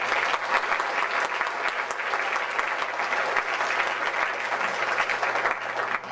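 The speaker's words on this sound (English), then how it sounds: "giving him another round of applause is still not enough" A school band reunion audience at a 50th anniversary event applauds steadily and loudly for the full stretch, a dense, even wash of many hands clapping with no talk.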